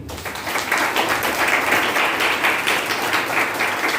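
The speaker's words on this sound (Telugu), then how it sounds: "గట్టిగా చప్పట్లు కొట్టండి" A church congregation claps loudly together at a worship service, a dense, sustained wash of applause rising quickly after a quiet start and continuing steadily, close and full, with no talking over it.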